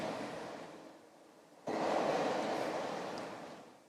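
A model train sound decoder driving a bass reflex speaker plays rumbling locomotive sound effects, a steady broadband roar that surges suddenly louder partway through and holds there.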